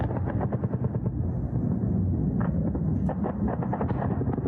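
Rapid bursts of distant air defense fire crackle and thud in uneven volleys over a steady low rumble, muffled and continuous throughout, at night over a port in Krasnodar Krai during a naval drone attack.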